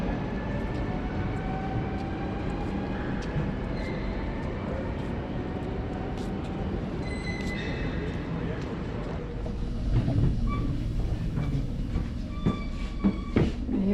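A train running on rails, steady rumble and rolling noise throughout with brief higher squeals and clicks, growing louder and busier toward the end, with people talking over it.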